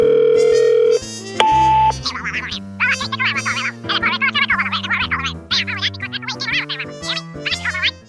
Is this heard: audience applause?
no